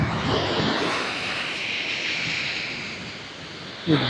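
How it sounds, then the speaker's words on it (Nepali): Sea waves at Brighton Beach make a steady, broad rushing wash of surf that continues through the whole stretch, with a short knock near the end and no voices. "छाल त निकै धेरै आइरहेको छ पानी।"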